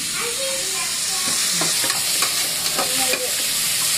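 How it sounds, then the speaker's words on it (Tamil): Onion, tomato, green chili and coconut sauté in an oiled pan for hotel-style chicken salna, giving a steady loud sizzle broken by a few scraping stirs of a spatula, with no voices. "பச்சை மிளகாய் போட்டு வதக்கிக்கலாம்."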